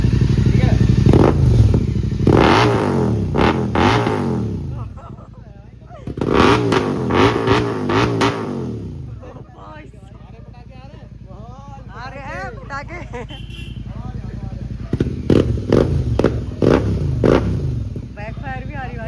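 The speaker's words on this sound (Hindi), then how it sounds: "पहले मैं दिखाऊंगा कि इसके इग्निशन ऑन करने पे कितना ज़्यादा साउंड आती है" A Royal Enfield GT 650 motorcycle fitted with a Red Rooster Performance exhaust revs hard in repeated loud, close bursts, its rumble rising and falling between lulls of idle.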